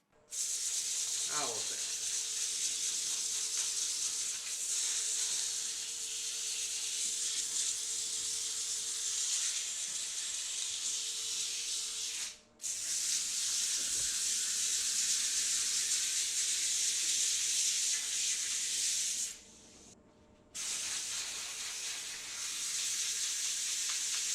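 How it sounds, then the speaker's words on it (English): Continuous rough abrasive hiss of 80-grit sandpaper against a pink ivory hardwood vase spinning on a lathe, steady and close for a long stretch, briefly interrupted twice before resuming. "So now I'm gonna rough sand this. This stuff's so hard, I'm gonna do 80 grit."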